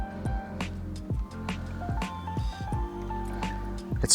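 A cheap solar fountain pump sits under water in a birdbath, sputtering and gurgling as it clears air, with irregular drips, bubbles and squishy splashes close by.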